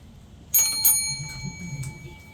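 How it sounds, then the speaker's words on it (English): A bright two-tone bell chime rings out once, its tones lingering and fading over low background rumble. "After a few minutes, the doorbell rang."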